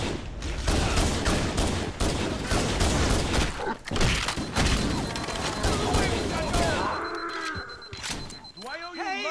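Halo: Combat Evolved firefight with rapid, overlapping gunshots crackling loudly up close, thinning out near the end as people talk over the action.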